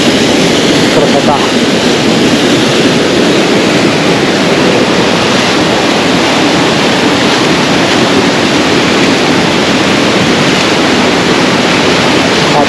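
Water pours at an angle over rocks in a waterfall near the aul of Tkhagabsh, Lazarevskoye, Sochi: a steady, loud, broadband roar that fills the scene throughout without pause.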